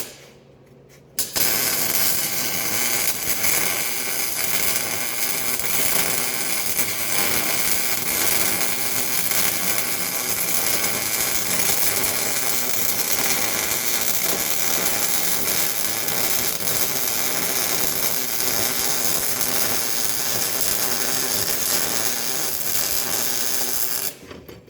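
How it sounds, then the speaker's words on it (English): MIG welding on a flat steel piece, a loud, steady, dense crackling buzz that starts abruptly after a brief quiet moment and runs unbroken for over twenty seconds, close up, with no talking. "We'll weld this for a little bit."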